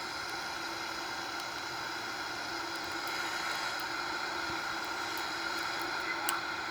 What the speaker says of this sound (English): V1, V2, here we are, the takeoff.